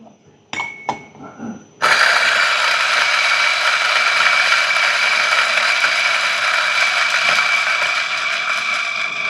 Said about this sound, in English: let's put inside the grinder